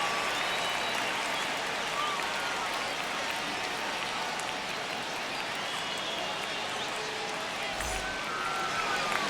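A stadium crowd roars on opening day in MLB The Show 25, Dodgers vs Cubs, a dense continuous wash of cheering and clapping that holds steady throughout, with a faint voice buried beneath.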